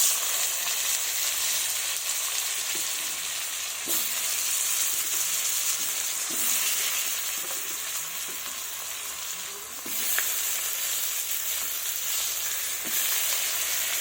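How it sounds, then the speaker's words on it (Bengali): Cut potatoes frying in oil in a pan for a duck egg curry, a steady bright sizzle with occasional spoon stirs and scrapes, close and moderately quiet, with no talk. "এবার কেটে রাখা আলুগুলো ভেজে নেব।"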